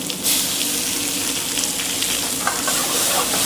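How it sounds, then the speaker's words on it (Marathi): Onion and tomato sizzle loudly in hot oil for a Kolhapuri mutton fry in a restaurant kitchen, a steady close crackle with occasional stirring and no talk. "कांदा फ्राय झाला की टामॅटो टाकायचं"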